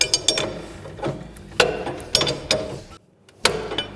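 A wrench clicks and ratchets as it turns an adjustment nut on a John Deere Gator track carriage, in irregular close, sharp bursts with a brief silent pause near the end.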